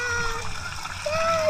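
Water sprays and splashes from a monkey fountain at a Macau water park, a continuous rushing wash of droplets close by, with a voice and squeaky tones over it.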